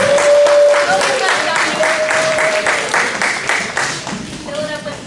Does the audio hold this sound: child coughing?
no